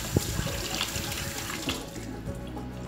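Tap water runs steadily into a sink while a fresh sardine is rinsed under it, with close splashing and clatter as hands move the fish through the stream.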